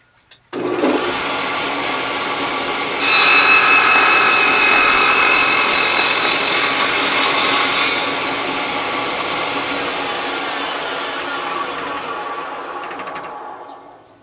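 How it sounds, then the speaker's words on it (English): A power drill set at 45 degrees cuts a slot into the end of a wooden dowel held in a scrap-wood block, a steady loud whirring grind that rises in pitch midway and then eases off before stopping. "set the drill at 45 degrees so I can cut a slot in the end."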